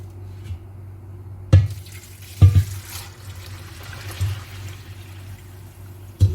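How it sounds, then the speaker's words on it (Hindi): Lentils and rice are rinsed in water for chicken haleem, with steady running and splashing water near the mic and a few sharp knocks of a vessel. "दालों और चावलों को मैंने पानी फेंक दिया और 2 पानी इनको धो लिया।"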